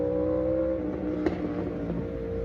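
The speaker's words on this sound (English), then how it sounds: "that's loud motorbike." A loud motorbike rumbles past outside with a steady low engine drone, a brief sharper burst in the middle, then a gradual fade as it moves away.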